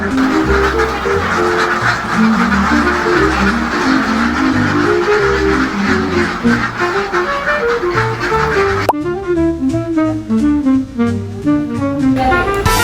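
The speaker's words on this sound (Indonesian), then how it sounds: "Ini kita di kandang bebek." Ducks in a duck pen quack in a dense, continuous chorus of overlapping calls throughout, loud and close, with no talking.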